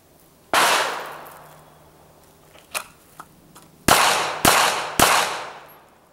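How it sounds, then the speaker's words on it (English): Compact pistol, such as a Bodyguard .380, TCP, PF9 or 709 Slim, drawn from a Kydex pocket holster and fired three times: a loud initial shot, a few light clicks and handling sounds, then three sharp, close gunshots in quick succession. "I'm going to try to draw, fire 3"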